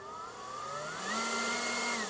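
A Greenworks 80V battery leaf blower spins up at low variable speed, its motor whine rising in pitch as the trigger is squeezed further, close and steady, with no talking.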